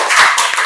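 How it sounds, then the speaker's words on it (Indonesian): A classroom of students claps for a group presentation, a short, close burst of hand claps. "Kasih tepuk tangan, sangat luar biasa."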